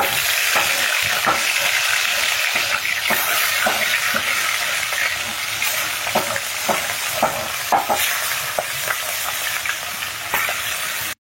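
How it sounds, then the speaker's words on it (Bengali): Hilsa pieces rubbed with turmeric and salt fry in hot oil, sending up a loud, close, continuous sizzle with scattered sharp spits and stirring clicks, and no voices. "ইলিশ মাছটা একটু ভেজে নেব"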